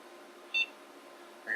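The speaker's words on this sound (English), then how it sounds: "I hear a beep." A single short electronic beep from an Asus TRL-DLS dual socket 370 motherboard on power-up sounds over a quiet hum, followed by the start of a second tone at the end.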